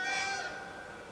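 A phone notification sounds as one short, bright electronic tone that rings steadily and fades slowly, faint and alone.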